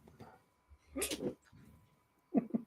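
A young puppy whimpers and snuffles in short, soft bursts close by, with brief pauses between the little cries.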